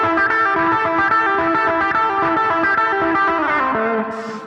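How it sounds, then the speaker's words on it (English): A distorted electric guitar solo plays loud and continuous, sustained bent notes with effects and chorus, fading slightly at the end; no talking. "let me just kind of play the solo real quick"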